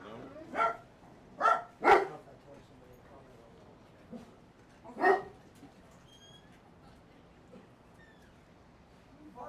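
A dog barks in a few sharp bursts, close by, with a couple of quieter yips later, while people talk nearby indoors.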